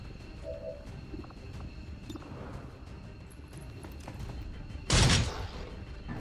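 A pistol shot fires in the video game XCOM 2 Long War. It is one loud, sharp crack near the end that rises over quiet, scattered game ambience with small clicks and chirps, followed by a brief decaying tail.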